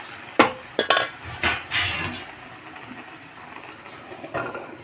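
Fish with turmeric stirred and fried in a pan: sharp clanks and scrapes of a utensil against the metal pan in an irregular burst, then a quieter low sizzle, no talking.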